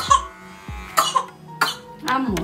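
A child coughs several times in short, separate bursts, close up, with faint talk in between.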